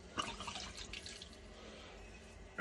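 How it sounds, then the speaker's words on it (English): Red wine poured into a pot of venison chili, a continuous splashing liquid pour close by with a few louder splashes at the start, steady to the end with no talking. "I'll put the rest of the red wine in."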